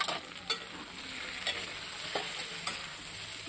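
Papaya curry with potato, eggplant, chili and turmeric powder sizzles in a pan while being stirred, a steady frying hiss broken by several distinct scraping strokes of the spoon, close and alone without speech.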